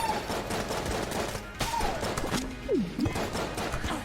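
Rapid bursts of gunfire from the video game Exit the Gungeon crackle continuously, with sharp impacts and a few whistling synthetic tones layered over the steady shooting.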